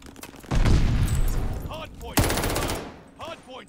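Sustained automatic gunfire and bursts of shots in the shooter game Call of Duty: Vanguard, loud and dense, with a sharp renewed volley midway and players talking over it.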